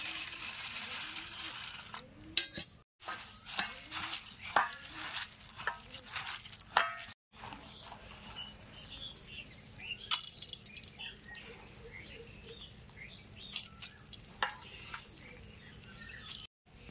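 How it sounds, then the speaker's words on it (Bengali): Puffed rice (muri) is washed with water, giving irregular splashes, drips and wet crackling rustles over a long stretch, with brief pauses and occasional talk in between. "এই মুড়িগুলো আমি জল দিয়ে ধুয়ে নেবো।"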